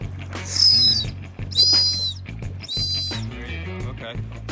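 Three long, loud safety whistle blasts blown in turn on an offshore trawler during a man-overboard drill, each shrill tone lasting about a second with short gaps, over a low steady boat engine hum.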